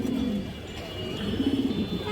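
An Indian black high flyer pigeon hen cooing up close, two short throaty rolling coos separated by a brief pause.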